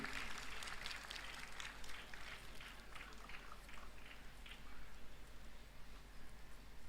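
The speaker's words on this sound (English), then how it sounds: "I want a big, big round of applause from all the students" Students in a university hall clap together at an induction program, a steady wash of dense applause that holds at a moderate, even level throughout, with no voices rising above it.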